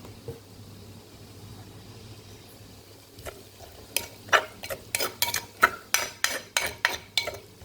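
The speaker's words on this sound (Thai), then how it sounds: "คนคลุกเขาให้เข้ากันนะจ๊ะ" Soft-fried chili dip, jaew, with fried pork bones is mixed with a utensil in a bowl. Quiet shuffling gives way to about a dozen sharp, evenly spaced knocks and scrapes close by.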